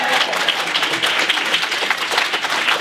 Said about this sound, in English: clap and cheer now.